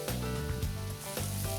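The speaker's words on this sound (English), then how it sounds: "We want the sizzle." Red and green bell peppers sizzle in butter in a pan, a close, continuous crackling hiss with small pops and light stirring.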